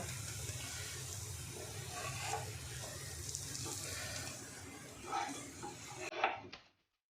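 Paneer potato fasting cutlets fry over a low gas flame in a pan, giving a steady soft sizzle throughout with a few louder scraping clunks as they are turned, ending abruptly.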